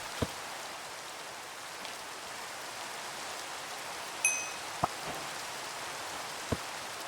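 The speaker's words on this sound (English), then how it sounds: "And it's raining." Steady Minecraft rain hisses evenly throughout, broken by a few faint, sharp ticks and one brief higher chime; no voices.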